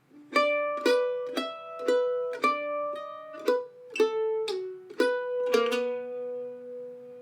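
A solo mandolin plays a slow bluegrass passage in G, with about a dozen bright plucked notes in a steady, deliberate rhythm and a pull-off, ending on a sustained ringing note.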